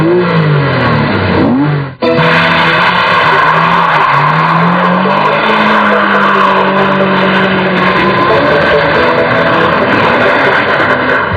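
A Porsche Boxster's boxer engine revs hard and loud, with a brief dip at about two seconds before it climbs again into a sustained high-pitched howl that holds to the end, with no talk over it.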